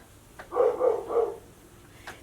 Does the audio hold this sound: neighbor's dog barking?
yes